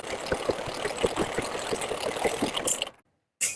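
A sewing machine runs an edge stitch along the seam of a blouse's lining, stitching steadily for about three seconds with a rapid needle rhythm before it cuts to silence and then starts again.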